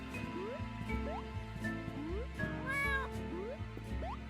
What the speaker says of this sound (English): Why is there a cat over here?